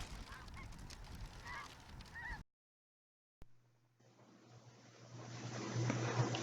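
Snow geese honk in a chorus of overlapping calls during a hunt in Canada, fairly faint and distant for about two seconds. After a brief silence, a steady low engine-like hum rises and continues.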